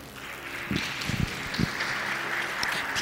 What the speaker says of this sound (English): Please, let's give them a round of applause as they come through.